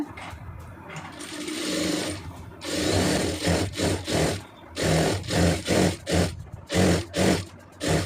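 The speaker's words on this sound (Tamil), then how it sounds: "ஒரு சுற்றி ஃபுல்லாக ஒரு தையல் தைச்சிருங்க" A sewing machine stitches piping onto fabric in a series of close, rhythmic mechanical bursts. One longer run is followed by quick stop-start runs of stitching.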